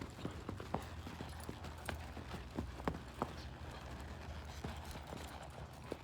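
A horse shifting its body under a rider, hooves clip-clopping in an irregular series of close, sharp steps over a steady outdoor background.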